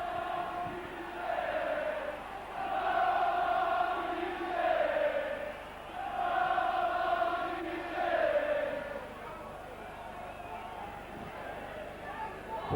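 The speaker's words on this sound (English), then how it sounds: "Big cheers from this Saints crowd." St Helens rugby league crowd at a club match against Australia, cheering and roaring in loud swelling waves that rise and fall across the clip, with a dense babble of voices filling the stand.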